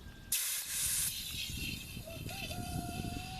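CO2 gas hisses in a loud broadband burst from a brass filling tip pressed into the top nozzle of an airsoft mortar rocket, followed by a softer steady hiss with faint background noise.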